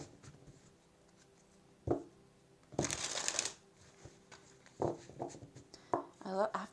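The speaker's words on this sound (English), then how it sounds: "when I'm doing the shuffling, I love this deck and how it shuffles" A tarot card deck is shuffled by hand in quick riffling bursts, one long run of crisp card flutter plus several shorter flicks and taps, close up and fairly quiet, with a voice talking in between.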